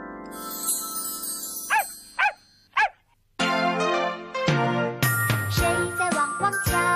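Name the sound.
dog barking from a children's electronic sound book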